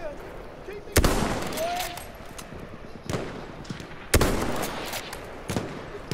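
Gunfire from the first-person shooter Battlefield 1 on a long-range map: two sharp, loud shots or bursts stand out over a steady noisy bed of game ambience, with fainter pops scattered between.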